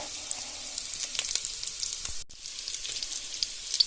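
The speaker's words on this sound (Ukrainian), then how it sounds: "Делаємо з нього шкварки. Сальце вижарюється." Pork fat sizzles and crackles steadily in a cauldron as it renders into cracklings, a dense close hiss with scattered pops, broken by one brief dip near the middle.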